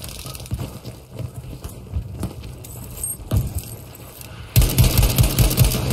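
Gunfire in the video game Battlefield 5, with scattered shots and bursts through the first part, then a louder, denser volley of rapid shots near the end.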